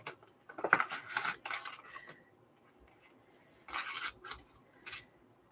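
Scissors snipping out paper pieces for a fairy journal, several short crisp cutting bursts in two clusters with a quiet pause between, close and fairly soft.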